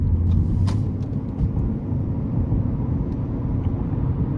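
A 2013 Ford C-Max Hybrid SEL with a 2.0 engine accelerates under throttle, heard from inside as a steady low engine and road rumble with faint clicks, without speech.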